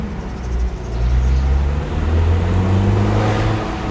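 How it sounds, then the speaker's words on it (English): Mazda MX-5 Miata (third-generation NC) pulling hard in second gear, a steady close engine drone whose pitch climbs as it accelerates, with road and wind noise underneath and no talking. "let's try the acceleration between speed bumps"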